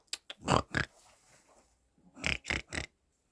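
Piglets give short grunting snorts in two clusters, a few rapid bursts each, with a quiet pause between them.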